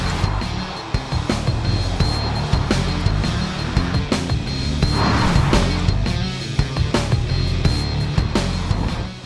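A Ferrari Roma with 612 horsepower drives around the Ferrari factory grounds in Italy, its engine giving a steady, loud drone marked by occasional sharp knocks and thumps throughout.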